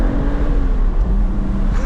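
A 2012 BMW 135i E82 with manual gearbox accelerates on a mountain road, its engine a steady, loud droning roar heard from inside the cabin, with no talking.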